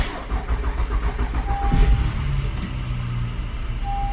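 Engine of a wrecked 2017 Honda Pilot being rebuilt, cranking briefly and catching, then settling into a steady close-up idle with a faint high whine.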